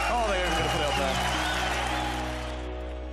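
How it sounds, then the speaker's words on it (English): A crowd at a CS:GO esports event applauds loudly and continuously, then slowly fades, with a voice speaking over the clapping. "Round of applause for LDLC."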